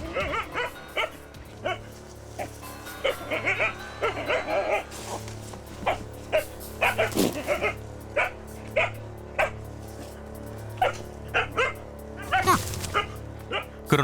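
Several village dogs bark repeatedly at a nutria hiding in a greenhouse, in short, sharp bursts, some yips and whimpers mixed in, over a steady low hum, with the barks varying from near to farther off.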